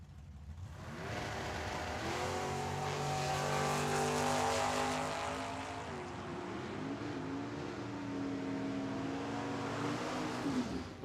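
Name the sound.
drag racing Nova and Camaro launching down the strip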